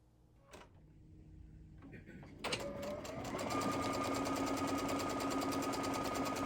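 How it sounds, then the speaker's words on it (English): A sewing machine stitches a sweatshirt seam for a quilter-style sweatshirt, starting with a few clicks and taps before the motor winds up into a fast, steady, close mechanical whirring chatter that continues to the end. "So I will go ahead and sew this seam here."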